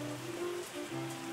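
Steady rain pours in the winemaking game Terroir, an even hiss of falling water over a faint sustained musical drone, with no voices.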